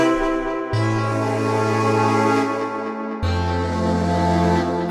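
The FRMS granular synthesizer by Imaginando sustains one note as a dense, shimmering layered tone with shifting textures and a change in the low layer partway through, loud and alone.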